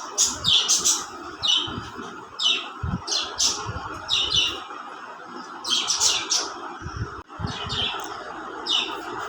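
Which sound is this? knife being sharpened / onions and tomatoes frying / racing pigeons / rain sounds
racing pigeons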